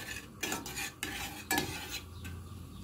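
Tomato sauce and concentrated chicken stock stirred in a pot over medium heat, with scraping and clinking of a utensil against the pot in uneven bursts, close and moderately loud, with a faint simmering sizzle underneath.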